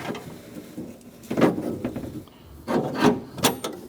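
A door handle reinforcement on a 2006-2011 Chevrolet front door is fed up into the door, making several scraping, rubbing metal-on-panel sounds in uneven bursts, close up with no talk.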